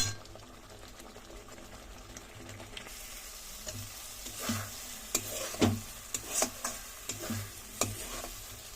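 Loita (Bombay duck) fish stirred and frying in a wok, with intermittent scraping clinks of the spatula against the pan over a steady sizzle that grows busier in the second half; no one speaks.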